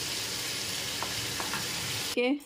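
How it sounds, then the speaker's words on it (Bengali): Food fries in a pan with a dense, continuous sizzle, close and steady, and a brief clatter near the end. "লাল লাল করে ভেজে নিই"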